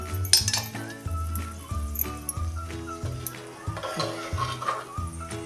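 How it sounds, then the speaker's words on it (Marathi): Black raisins are sautéed in a pan for grainy carrot halwa, with a spoon clinking and scraping against the metal in an uneven rhythm over a faint sizzle, close and fairly quiet. "त्यात टाकूया हे काळे मनुके हे चांगलं असं मिनिटभर आपण परतून घेऊया"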